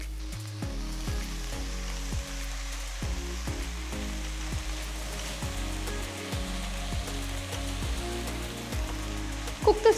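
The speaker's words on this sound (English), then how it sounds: "Cook the spinach for about 2 minutes." Chopped spinach cooks in a pan with sliced garlic and onions for a palak dal, giving a steady close sizzle and hiss that continues evenly, with a few faint clicks and a sharp knock at the end.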